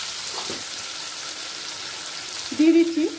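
Tomatoes and slit green chillies fry in a pan with a soft, steady hiss of sizzling oil. Near the end a brief voiced sound rises over it.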